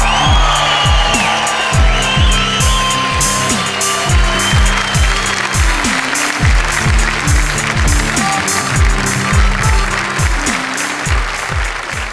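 A studio audience at a Hindi poetry recital show gives loud, sustained applause, a steady wash of clapping mixed with cheering and repeated low thumping beneath it.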